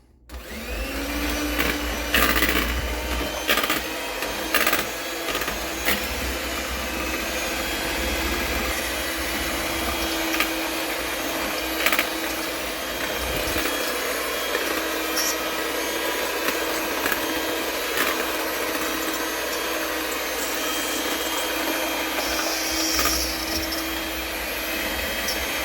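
An electric mixer whirs steadily for a long stretch while beating batter for a passion fruit mousse cake, a continuous close motor drone with occasional scraping knocks against the bowl and no talk.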